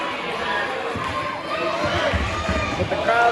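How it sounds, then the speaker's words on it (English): A crowd at a varsity boys' high school basketball game roars and cheers continuously under a commentator's voice, the noise swelling toward the end. "But the crowd fired up again after that one."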